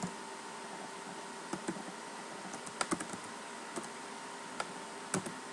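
Scattered, irregular key clicks from a computer keyboard as Java code for a JFreeChart pie chart is entered in NetBeans, quiet and sparse over a steady low hum, with no talking.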